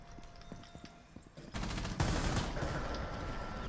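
Gunfire in the tactical shooter Rainbow Six Siege, quiet scattered game sounds giving way to a loud sustained burst of rapid shots that continues steadily to the end.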